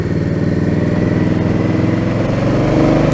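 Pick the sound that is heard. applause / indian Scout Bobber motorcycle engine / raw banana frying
indian Scout Bobber motorcycle engine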